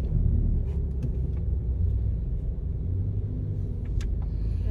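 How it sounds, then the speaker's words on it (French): A Peugeot 107 car reversing nearby on a street, its engine giving a low steady rumble with a few faint clicks and knocks, no speech over it. "Elle est pas loin de la voiture en train de faire une marche arrière. Avec sa 107, là."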